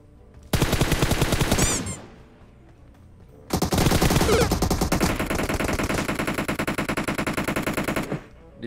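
Loud automatic gunfire from a shooter video game, a sustained burst of rapid shots, a brief lull, then a longer continuous stream of fire, close and dominant with no talk over it.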